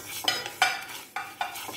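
Fenugreek seeds dry-roasting over medium-low heat in a pan for green chili pickle, stirred with a spoon: four or five distinct scraping, rattling strokes, close and fairly quiet, with no talking.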